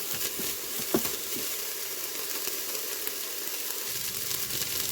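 Onions and peppers sauté in a pan with a steady, fairly loud broadband sizzle, broken by a few soft clicks of stirring, and nobody speaks.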